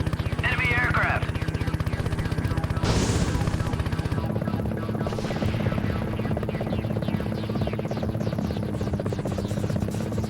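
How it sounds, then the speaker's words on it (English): An enemy helicopter in the Gunship video game drones with a steady rhythmic rotor chop and engine hum, loud and continuous, while someone talks over it. "Enemy aircraft."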